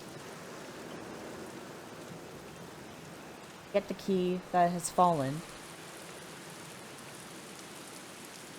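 Steady rain falls in the Black Mirror video game, a soft continuous wash of drops throughout, briefly overlaid by someone speaking a short phrase in the middle.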